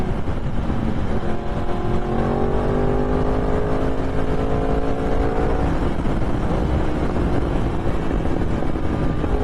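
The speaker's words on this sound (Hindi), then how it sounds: "इन बाइक्स का इंजन पुल जो है वो बहुत ब्रूटल है, बहुत तगड़ा है" A Yamaha R1 superbike engine revs loudly and climbs in pitch, then settles back, with a steady roaring drone underneath throughout.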